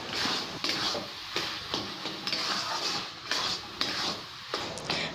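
Carrots being stirred in a kadai (wok) for gajar halwa, a spoon scraping and clinking against the metal pan in a steady repeating rhythm, close and moderately loud, with no talking.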